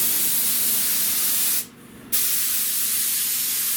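Spray gun laying down glue for a 1979 car headliner: a loud steady hiss that cuts out for about half a second midway, then resumes just as strongly.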